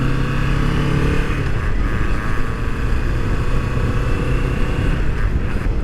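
A Kawasaki Vulcan S motorcycle fitted with a booster plug rides along with its engine droning steadily and loudly close by, mixed with heavy wind rush and no speech.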